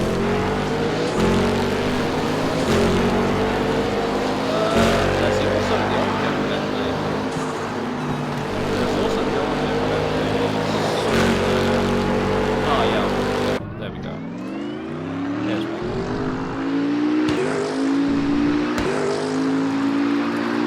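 Race cars in RaceRoom Racing Experience roar past in a dense pack, engines droning and shifting steadily for a long stretch, with pitch sweeps as the cluster accelerates and a voice talking over it.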